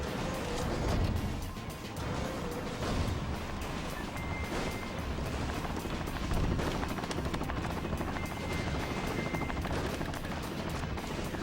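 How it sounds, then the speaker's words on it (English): Black Hawk helicopters in the video game Metal Wolf Chaos keep up a dense, continuous rotor roar mixed with rapid bursts of gunfire and explosions, filling the whole scene at a steady level. "Blackhawks raise their ugly heads."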